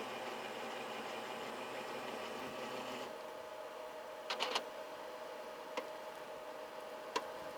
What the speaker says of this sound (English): Sweet sound of sublimation printer.